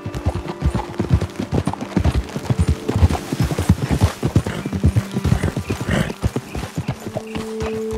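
Horse hooves clip-clop in Red Dead Redemption 2, a quick, uneven rhythm of several horses moving together close by, with a brief whinny amid the steady trotting.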